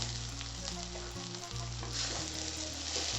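Leaves for Kerala thoran sauté in a pan with a soft, steady sizzle while they are stirred and mixed, quiet and close, over a low continuous hum and with no speech.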